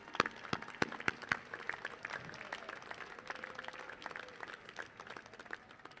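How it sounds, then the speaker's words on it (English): Graduates at the 2017 Henry M. Rowan College of Engineering ceremony applauding their families, a broad crowd applause in a large hall with a few sharper close claps at the start, steady and moderately loud. "Applaud them as you're standing here ready to graduate."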